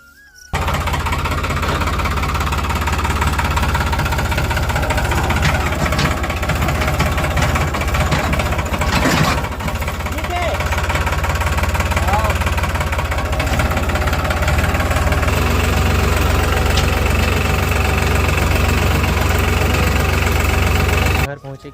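A tractor loaded with straw (paddy fodder) runs steadily throughout, a loud continuous low engine drone with mid-frequency rattle and vibration, voices faintly mixed underneath.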